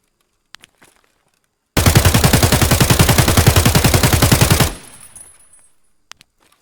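An AK74-M rifle in the video game Escape from Tarkov fires one long, loud, evenly paced full-auto burst of roughly thirty rapid shots, then cuts off, leaving a fading echo and a few faint clicks.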